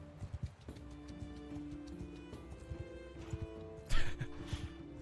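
Horse hooves clip-clopping in the Mount & Blade II: Bannerlord video game, uneven thuds under a continuous game soundtrack, with a louder burst near the end.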